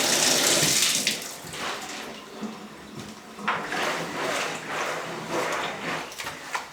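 Water from a tap runs and splashes into a bathtub as a rag is wetted for cleaning with Ajax, a close, continuous rush that rises and falls as the rag moves through the stream.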